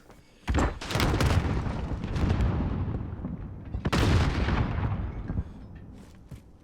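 Sniper rifle fire in a competitive video game match: two loud, sharp shots with long booming tails, plus a few softer cracks in between.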